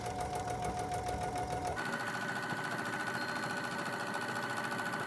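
A sewing machine runs a straight seam down a quilted book sleeve at a 3.5 stitch length, its close, steady mechanical whirring continuous throughout with no talking.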